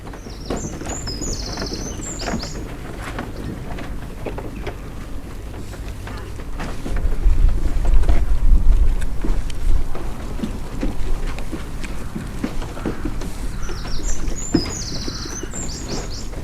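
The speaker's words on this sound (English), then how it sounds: "there's a very happy robin singing there this morning" A robin sings a couple of short, high phrases at the start and end over outdoor background noise and a rumbling low thud mid-way.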